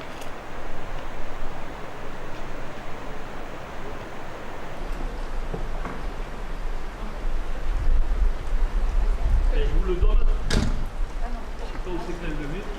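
A river near Sahorre rushes steadily and fairly close throughout, with brief knocks and faint voices rising over the flow toward the end.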